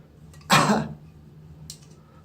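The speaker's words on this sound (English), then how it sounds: "I've got a bit of a cough." A man gives a single short, husky cough up close, followed by a faint breathy sound a moment later.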